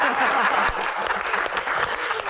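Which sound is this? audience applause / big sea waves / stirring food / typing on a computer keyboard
audience applause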